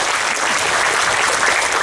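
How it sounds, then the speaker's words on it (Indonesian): A crowd at an Islamic sermon in Tasikmalaya city hall claps together in dense, steady applause, loud and close, lasting a couple of seconds. "Tepuk tangan untuk Pak PJ, Bu."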